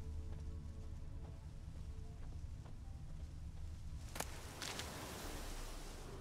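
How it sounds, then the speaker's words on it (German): Rain falls in the video game The Witcher 3: Wild Hunt, a soft, faint, steady patter with a few brief sharper crackles partway through. "Sieht nach Regen aus."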